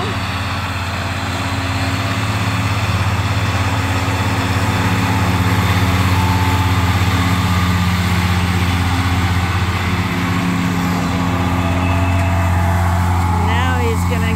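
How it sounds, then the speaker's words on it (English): A ride-on lawn mower engine drones steadily while mowing grass on a sheep farm, a loud continuous hum holding throughout with little change in pitch. "Might be safer to just lock them up until Arnie's finished mowing that down."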